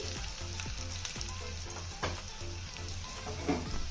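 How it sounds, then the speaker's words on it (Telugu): Curry leaves and a pinch of asafoetida sizzling in hot oil for a tempering, a steady close crackle and hiss throughout with a few brighter pops, no talking. "తర్వాత పచ్చి కరివేపాకు కొంచెం ఇంగువ వేస్తున్నాను"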